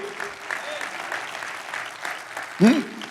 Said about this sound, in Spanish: Da ese aplauso grande al Señor.